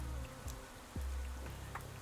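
Faint, steady rain in Pathologic 3 patters softly in the background, with a few low thuds and nothing else prominent.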